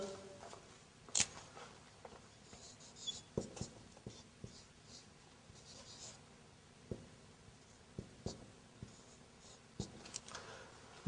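A teacher writes an Arabic sentence on a board during a class, producing a series of scattered short taps and scratching strokes at moderate volume over quiet room tone, with a faint voice now and then.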